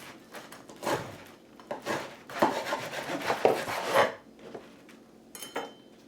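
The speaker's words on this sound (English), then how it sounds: "I'm going to take a slice right now because I got to taste it." A knife saws through a baked country loaf with a run of soft, rasping strokes that are close and fairly quiet, bunched in uneven bursts, followed by a brief pause and a final scrape.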